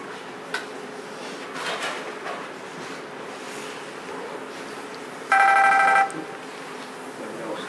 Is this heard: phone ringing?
yes